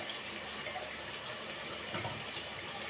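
Water runs and splashes while a mixer grinder jar is rinsed in a kitchen, a faint, continuous hissing gush with small splashy variations and no talking.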